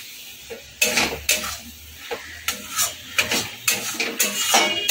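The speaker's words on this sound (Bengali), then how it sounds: "ভালো করে নেড়ে চেড়ে অল্প একটু জল দিয়ে আমি ঢেকে দেবো।" Pointed gourd stirred in a metal pot and then covered, with a series of close clinks and scrapes of a utensil against the pot and a few louder metallic knocks, over a faint background sizzle.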